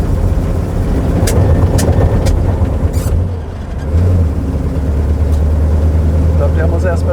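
A 1967 Bizzarrini 5300 GT supercar engine runs roughly near the listener, its low rumble wavering and dipping unevenly while someone talks over it.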